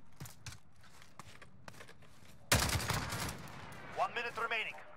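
An SA87 light machine gun fires in a video game, with scattered light clicks first and then a loud burst of rapid automatic fire. Shorter bursts and bright game effects follow.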